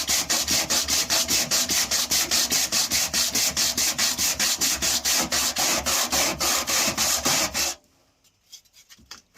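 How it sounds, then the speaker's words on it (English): Wood of a Ransomes 'Ajax' Mark 3 lawnmower grassbox is sanded in quick, regular back-and-forth strokes, a rhythmic rasping close by that continues for several seconds, then stops, leaving near silence. "I'm going to start sanding."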